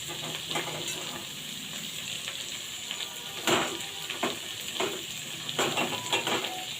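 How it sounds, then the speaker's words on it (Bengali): Carrots, beans and capsicum frying in a pan with a steady, moderate sizzle, broken by a few louder stirring scrapes and clatters, with no voices. "সবগুলো একটু ভেজে নেব ভালো করে।"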